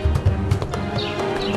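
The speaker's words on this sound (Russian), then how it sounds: "Лошадь поднялась на дыбы." A horse rears up on a stormy night of rain and lightning, hooves thudding in a few heavy, close, uneven beats with a short whinny-like cry, no voices present.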